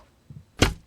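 A single bow-and-arrow shot from the video game Alyria, a quick faint creak followed by a short, sharp whooshing release.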